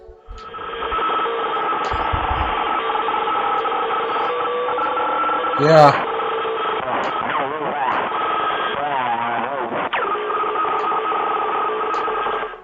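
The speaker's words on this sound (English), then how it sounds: "This audio seems to be a distorted radio frequency" Distorted, crackly radio static from a video game, heard as the Mangle character hunts, with warbling, sweeping tones playing continuously and a brief voice interjection early on.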